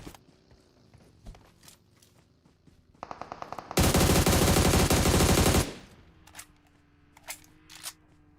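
Gunfire in a competitive shooter match: scattered single shots and footsteps, then a rapid burst and a long, loud, sustained automatic volley close by, followed by more sparse shots, with no talk.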